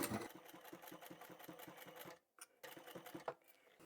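A sewing machine stitches the side seam of a small fabric pocket tissue holder, running with a rapid steady mechanical chatter, a brief stop, then a short restart, close and fairly quiet.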